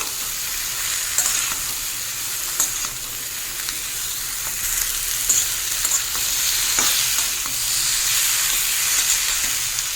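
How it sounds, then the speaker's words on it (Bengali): Ripe chopped tomatoes fry with spices in a pan for a drumstick, potato and rohu fish curry, giving a steady close sizzle and hiss with occasional stirring scrapes throughout, no voices. "পাকা টমেটো দিয়ে আরও 2 মিনিট ভাজবো।"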